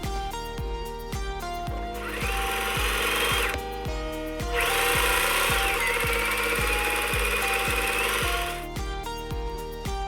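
A sewing machine stitches along the side of face mask fabric, running in repeated bursts with sharp, regular needle ticks and a steady motor whine, close up with no voices.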